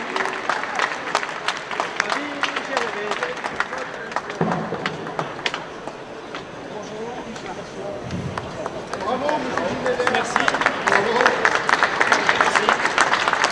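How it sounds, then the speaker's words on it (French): Scattered, lively applause from a crowd greeting prize-winning clubs at a classic car show awards ceremony, building toward the end while a presenter keeps talking over it. "on peut les applaudir"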